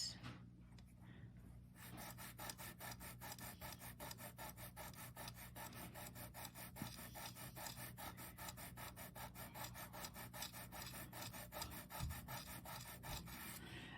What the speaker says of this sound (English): this has to be sanded, this side, and this